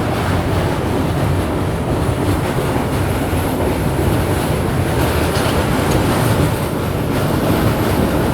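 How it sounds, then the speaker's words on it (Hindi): Passenger train, a Humsafar special, rolling along the track at reduced speed past a maintenance section, with a loud, steady rumble and rushing noise filling the whole stretch and no talk. "वो देखो अभी अपनी ट्रेन जस्ट निकली है"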